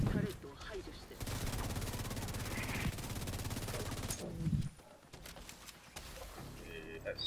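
Mortar and gunfire in The Division, during the Paradise Lost incursion mission: dense, loud rumbling blasts and rattling shots that swell for several seconds, then a few sharper, thinner reports, with faint voices underneath.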